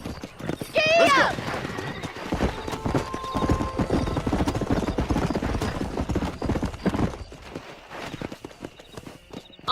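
Horse hooves clip-clopping at a galloping pace in the video game Red Dead Redemption, opening with a loud whinny, then steady rapid hoofbeats under speech and game music.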